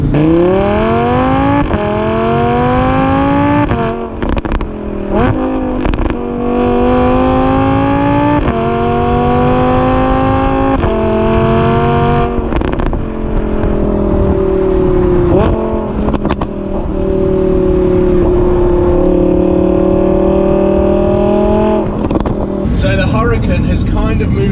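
A Lamborghini Huracan's engine and exhaust rev hard through repeated rising sweeps and gear changes, loud and close, with brief drops between pulls and a talking voice underneath.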